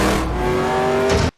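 A Plymouth Fury engine revs loud and close in one sustained, roaring burst with a rising whine that cuts off abruptly.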